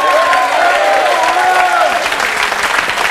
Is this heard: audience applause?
yes